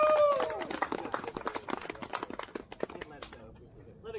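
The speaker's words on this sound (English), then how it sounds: "Give them a round of applause." Applause at the Jankfest '23 community event, a scattered round of hand claps from a small crowd that thins out and fades over a few seconds.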